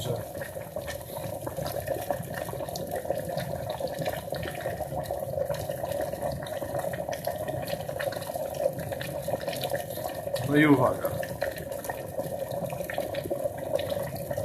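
A drain bubbles and fizzes from a citric acid cleaner reaction, a continuous watery gurgling with a louder burst of bubbling near the end, while a person speaks briefly.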